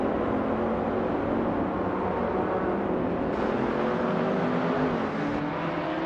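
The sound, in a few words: race car engine, 2016 ADS-N3 Nissan LMP3, video game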